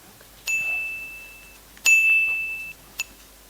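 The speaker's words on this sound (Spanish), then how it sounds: "Scrooge vio cómo la campanilla empezaba a moverse, tan lenta al principio que apenas sonaba" A small handbell chimes three times with clear metallic rings, the first two long and sustained and the last brief, fairly close and alone as a sound effect in a dramatized Spanish reading of Dickens' A Christmas Carol.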